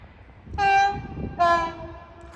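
A London Northwestern Railway class 350 electric train pulls into Watford Junction, sounding two clear, close horn blasts, one short and one longer, over low rumbling station noise.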